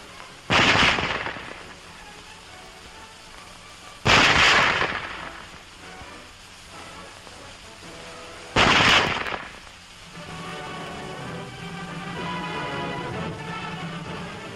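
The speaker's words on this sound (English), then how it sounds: "Loading and firing the Model 98K is the same as our own Springfield, with the exception of the sight adjustment." Three loud single rifle shots from a German Model 98K bolt-action rifle, spaced several seconds apart, each a sharp crack with a short decaying tail, followed by a low steady background.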